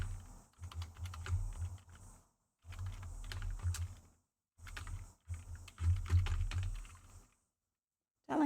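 A computer keyboard is moved and set down on a desk, giving several bursts of clicking, rattling key clatter and soft knocks, separated by brief silences, close and fairly loud with no talk.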